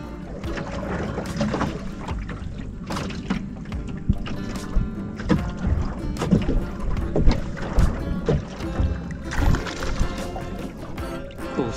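Fishing boat out on the water, with choppy splashing and slapping against the hull mixed with gusts of wind, uneven bursts rising and falling close to the microphone, and no talk.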